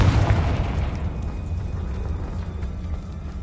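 A Confringo spell explosion in Hogwarts Legacy on PS5 bursts loudly at the start, then its rumbling blast slowly fades over a few seconds with no talking.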